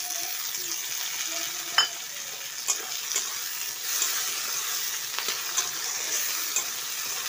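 Chopped tomato and onions sizzle steadily in a frying pan, with a few sharp stirring clicks and scrapes breaking through the continuous hiss.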